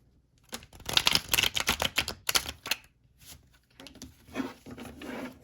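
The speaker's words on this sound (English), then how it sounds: "I'm going to give it one more good shuffle." A deck of tarot cards is shuffled by hand, rapid bursts of riffling and slapping close by, pausing briefly in the middle before a softer final riffle.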